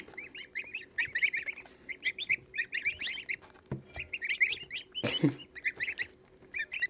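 Day-old Mammoth goslings peep in rapid, high chirping bursts, close and fairly clear, with a brief rustle or bump partway through.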